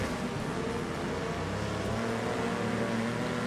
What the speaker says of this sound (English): I can only listen to engine noise for so long